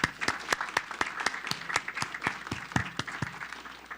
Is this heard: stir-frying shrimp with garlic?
no